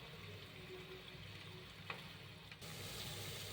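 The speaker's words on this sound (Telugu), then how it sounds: "ఫస్ట్ ఒక పీస్ వేయండి. ఆయిల్ హీట్ అయిందో లేదో చెక్ చేసుకోవడానికి." A single piece of cauliflower pakodi batter frying in hot oil gives a soft, steady sizzle, quiet and close, with a faint clink partway through and a slightly louder bubbling after a brief shift.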